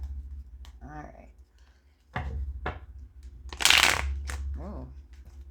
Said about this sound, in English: Oh, that was not a good shuffle.